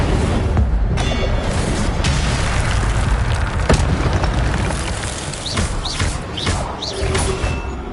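Incendio fire spell cast in the video game Hogwarts Legacy, a loud dense roaring burst with booming low thumps that fills the whole clip, with faint bird-like chirps near the end.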